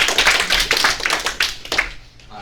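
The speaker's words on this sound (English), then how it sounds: "let's give Eric and YhaliS a round of applause." A small class audience claps briefly for two student presenters before their world-building pitch. The sharp, distinct claps come close and fairly loud, then trail off within a couple of seconds.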